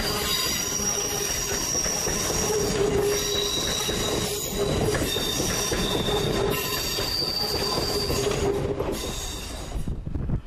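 A Class 450 electric train at Basingstoke station runs through loudly and continuously, its wheels squealing on the rails in high metallic tones over a steady rolling rumble that fades slightly near the end.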